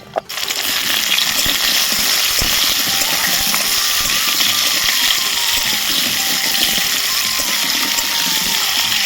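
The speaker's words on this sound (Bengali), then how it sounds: "সমস্ত আনাজগুলো হালকা করে ভেজে নেব এবার দিয়ে দেবো কুমড়ো" Chopped vegetables and pumpkin frying lightly in oil for khichdi give a loud, steady sizzling hiss that runs unbroken from start to finish, with no talking.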